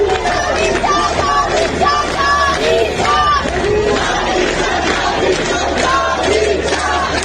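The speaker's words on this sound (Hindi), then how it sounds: "यहां हजारों लोग खामनेई के खिलाफ नारेबाजी कर रहे हैं।" A large crowd of protesters in Mashhad, Iran, chants slogans against Khamenei, many voices rising and falling together in a loud, continuous rhythmic roar with repeated shouted phrases.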